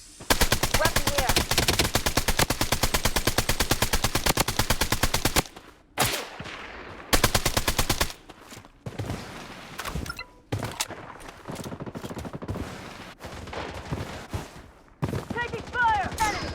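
Rapid automatic gunfire from the Blood Strike video game, a dense sustained burst for about five seconds, then shorter intermittent volleys and single shots with pauses between them.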